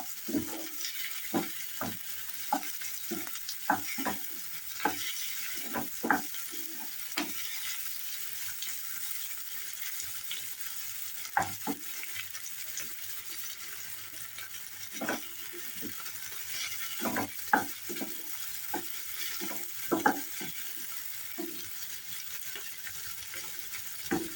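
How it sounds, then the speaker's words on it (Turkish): Peppers sizzle in a pan with a steady hiss, punctuated by repeated scraping and clattering stirs throughout. "Biraz kavuracağım."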